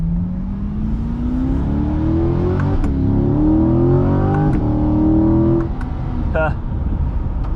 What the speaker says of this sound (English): here we're gonna get a chance to listen to the V8 and see what it sounds like